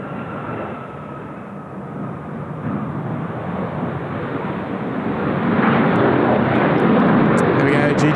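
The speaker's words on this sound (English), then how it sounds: "There we go, Jeju Air just arriving." A Jeju Air jet arriving at Seoul Incheon Airport rumbles in as a broad roar that slowly swells and grows louder toward the end, heard from a spotting position.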